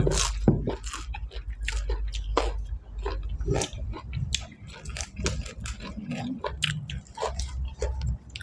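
Someone chews crunchy food, a dish of raw sliced liver, close to the microphone. The dense, steady run of moist crunches and bites continues throughout with no talking.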